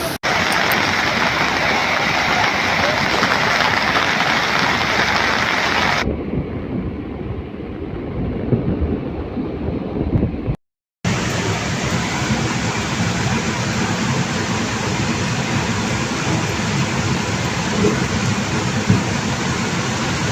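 Heavy rain roars steadily with thunder rumbling through a flood in a Uzbek village, the downpour loud and dense throughout, briefly cutting out and then resuming at full strength.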